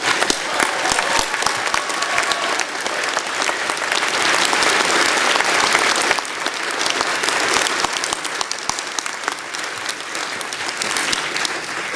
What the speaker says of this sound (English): how about a big round of applause for the faculty on stage for all their support?